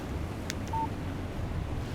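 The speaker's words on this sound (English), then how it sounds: "Text message from Barry." Alan Wake Remastered phone text message alert, a short electronic beep and chirp heard once against a steady low background hiss, faint and brief, with no talking.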